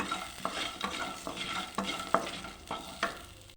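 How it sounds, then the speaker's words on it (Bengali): Bori, sun-dried lentil dumplings, frying in oil with a continuous sizzle and regular spatula scrapes and knocks against the pan, about one every half second. "বড়ি বাটা করব, তো বড়িটা ভেজে নিচ্ছি আগে।"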